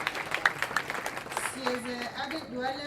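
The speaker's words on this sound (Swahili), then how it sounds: "Tupigieni Governor makofi tafadhali." An audience at a Kenyan county devolution sensitization event claps for the governor, a burst of scattered clapping in the opening second and a half before a voice takes over.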